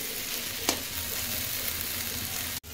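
Taro stolons cooked with shrimp and mustard paste crackle in a hot pan, a steady sizzle broken by one scrape of stirring and a brief cut near the end.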